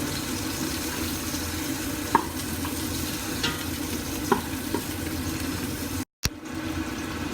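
Onion and garlic frying in a pan while being stirred until lightly browned, a continuous sizzle with scattered scraping clicks of the spatula and a brief cutout near the end, no voices.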